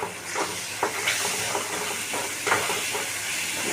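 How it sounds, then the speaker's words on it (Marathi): Tomatoes sauté in a hot pan for butter pav bhaji, giving a steady broadband sizzle and hiss with occasional soft clicks and scrapes from stirring. "टोमॅटोचा कच्चापणा जाऊपर्यंत टोमॅटो छान परतून घ्यायचा आहे।"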